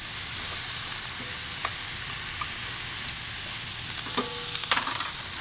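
Garlic, onions, celery and carrots sauté in a pan for braised short ribs, with a loud, steady close-up sizzle and occasional light stirring scrapes and clicks near the end.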